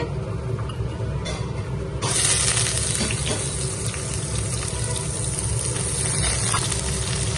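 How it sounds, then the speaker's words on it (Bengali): Oil heats and sizzles steadily in a kadai before cooking fish oil with brinjal. There is a continuous close hiss with no talking, and it jumps louder and brighter partway through. "আমি কড়াইতে তেল দিয়ে দিয়েছি"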